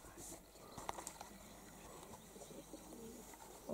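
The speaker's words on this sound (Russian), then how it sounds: "Бутяк, а вон голубей-то сколько, видишь?" Pigeons coo faintly outdoors on a farm with geese and cows, soft and distant under quiet background noise, with a brief voice near the end.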